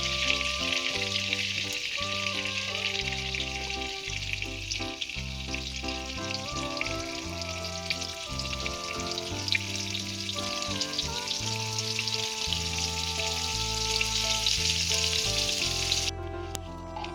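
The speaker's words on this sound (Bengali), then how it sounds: "যে ফুলকপিগুলো আমি কেটে রেখেছিলাম এগুলো আমি এবার কড়াইতে দিয়ে হালকা করে ভেজে নেব" Cauliflower florets fry in hot oil in a wok, a steady, dense sizzle that holds close and loud for the whole stretch, with a low tonal hum underneath and the sizzle cutting off abruptly near the end.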